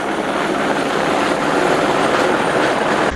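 A rescue helicopter hovering above a mountainside, its rotor and engine roar loud, close and unbroken, with no voices heard.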